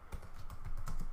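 Rapid, close keystrokes clatter on a computer keyboard as a command is typed, a short quiet burst of even, evenly spaced taps.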